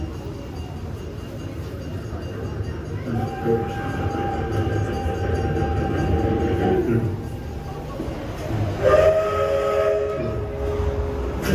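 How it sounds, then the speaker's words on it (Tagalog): Train rolling past over a bridge, with a continuous rumble and rattle of wagons and sustained whistle-like tones sounding twice, fairly close and loud throughout. "Train goes by."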